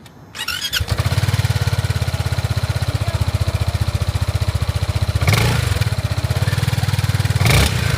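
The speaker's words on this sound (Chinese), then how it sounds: "所以说只能听一下这个怠速时候的发动机声音了。" A 2026 ZONTES 368G scooter engine starts and settles into a steady, close, pulsing idle with a rapid regular throb, briefly swelling twice with louder revving bursts.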